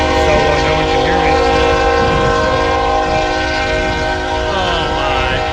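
A long freight train passes close by behind its locomotive, engine roaring loudly and steadily while a sustained multi-tone horn sounds over the rumble, with no voices.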